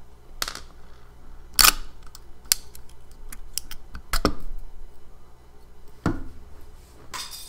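A small plastic piece falls during the disassembly of a hard drive, giving several sharp close clicks and taps with one louder clatter near the start, over quiet room noise and no talk.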